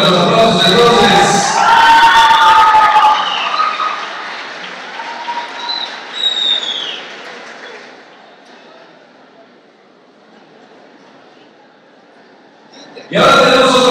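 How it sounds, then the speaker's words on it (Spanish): Audience applause and crowd noise at a queen-election pageant in Zapotillo, loud and dense for the first few seconds, then fading to a quiet murmur before a sudden loud burst at the end. "fuerte los aplausos entonces"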